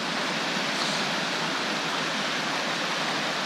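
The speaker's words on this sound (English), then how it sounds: "We got this little bridge right here with this river." A small river flows under a little roadside bridge, giving a steady, dense rushing of water that is loud and constant with no pauses or talking.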